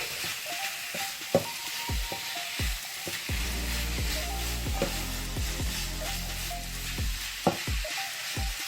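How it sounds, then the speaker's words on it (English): Meat for a meat pie filling fries in a pan with a continuous crackling sizzle, broken by repeated scraping strokes and knocks from a spoon as it is stirred and scattered. The sound is close and there is no talk. "you want to add your meat. And make sure you stir, you scatter"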